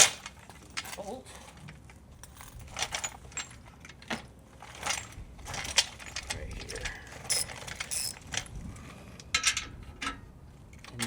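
A 9/16 ratchet wrench loosens a muffler bolt on a 2025 Harley Lowrider S, giving a steady run of quick, moderately faint clicking pawl strokes in irregular bursts close to the microphone.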